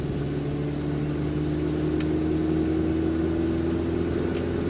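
A car cruising the A12 autobahn between Fürstenwalde and Briesen, giving a steady, even engine and road drone heard from inside the cabin, with faint clicks on top and nobody speaking.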